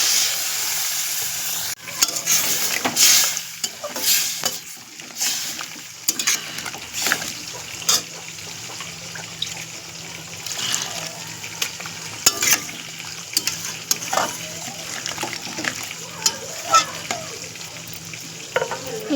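Water poured into a pan of frying pointed gourd and potato curry, village style, with a steady hiss and sizzle throughout and irregular stirring clatter and bubbling bursts, fairly close and without talk.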